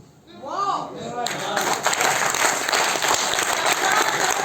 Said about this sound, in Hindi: तालियां बजानी है तो